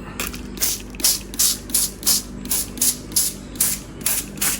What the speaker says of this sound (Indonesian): proofing, kita semprot dulu